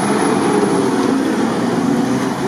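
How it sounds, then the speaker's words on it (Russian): A steady, loud drone from a 4.7-litre V8 engine holds throughout, a constant mechanical roar with no breaks or talk. "классный там мотор"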